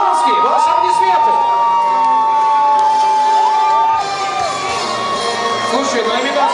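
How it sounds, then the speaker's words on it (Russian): A crowd cheers and whoops loudly and continuously for a winner announced at a student pageant award ceremony, with shrill, wavering shouts over a steady roar. "Ваши аплодисменты"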